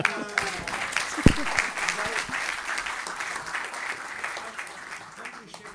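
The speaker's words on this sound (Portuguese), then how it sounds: "Um aplauso a Isaías." Audience applause for Isaías at a choro music celebration, a broad patter of clapping that fades gradually, with a few voices underneath.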